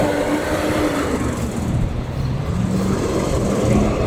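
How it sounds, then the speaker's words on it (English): A loud truck passes on a New York City street, its engine rumble and road roar filling the whole stretch as a steady, dense wash of low noise with no talk over it. "It's a loud truck."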